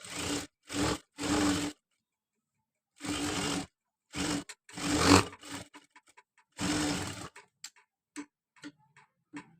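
A sewing machine stitches a blouse in several loud whirring bursts of one to two seconds, separated by pauses, then gives way to softer scattered ticks and clicks near the end.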